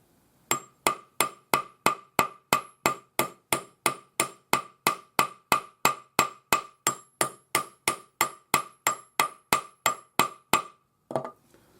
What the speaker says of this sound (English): we'll just start hammering